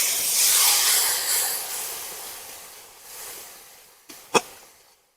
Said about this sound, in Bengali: একটু জল দিয়ে মশলাটাকে ভালো করে কষিয়ে নেবো।